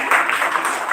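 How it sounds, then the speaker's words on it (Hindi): Audience applause at a motivational session, a short burst of steady clapping from a crowded room as a boy is cheered for wanting to become a pilot. "पायलट के लिए तालियां।"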